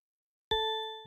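A single synthesized bell note rings out from LMMS music software, a bright metallic strike with clear sustained overtones that slowly decays, heard alone after a moment of silence.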